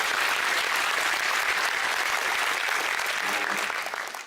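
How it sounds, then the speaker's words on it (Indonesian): An audience applauds for an ambassador at a talk event, a sustained burst of many hands clapping at moderate volume that thins and fades near the end. "Beri tepuk tangan untuk Pak juga."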